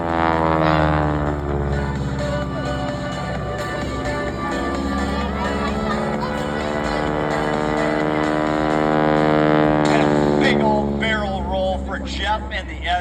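At an air show, a vintage SNJ propeller aircraft flies a four-point aerobatic roll, its steady droning engine loud and close throughout, the pitch shifting slightly as it maneuvers past.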